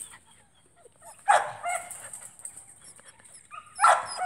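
Young puppies at play give two short, sharp barks and yips about two and a half seconds apart, with faint whimpers and rustling between them, close by and fairly quiet.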